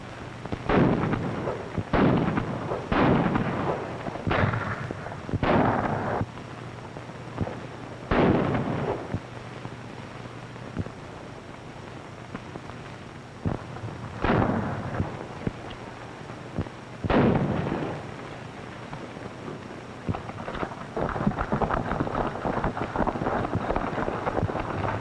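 Artillery or gunfire in a 1935 adventure film: a rapid series of heavy booming shots, then isolated blasts spaced out after a pause, with a rumbling, windy background.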